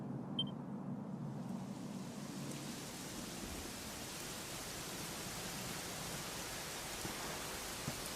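Steady rainfall in a video game, a dense even hiss of rain that builds after the first two seconds and then continues unbroken, with a faint rumble underneath.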